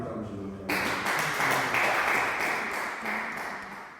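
A church congregation bursts into applause and acclamation for God after the preacher's call, a sudden dense wash of clapping and voices that holds steady for several seconds before easing slightly.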